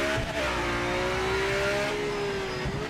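A race car engine in the Project Motor Racing video game revs hard and steadily, its pitch climbing and then dropping sharply as the car downshifts, loud and close with no talk.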